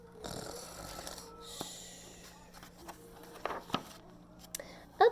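A voice imitates a bear snoring during a reading of the picture book Bear Snores On, giving breathy rasping snores and snorts that stand out from a quiet background.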